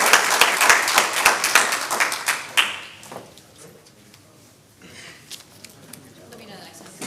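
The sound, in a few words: audience applause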